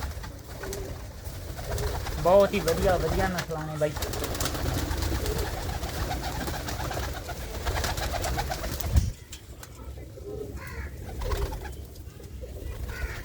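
Low, throaty cooing from desi pigeons continues near and steady, partly under a man's nearby speech, thinning toward the end.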